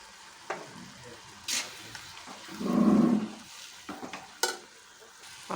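Gongura leaves cook down in oil with turmeric for pickle, a low continuous sizzle with a few spoon scrapes and a swelling bubbling hiss midway, near and fairly quiet with no voices.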